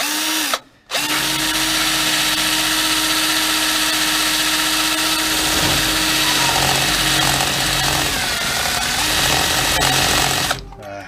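A Kawasaki power drill with a loosening bit whirs loudly and continuously for several seconds, starting and stopping abruptly, its pitch wavering slightly as it bites.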